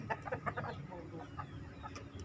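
Several hens cluck in short, irregular bursts close by, with a rooster among them, over a steady low hum of farmyard background.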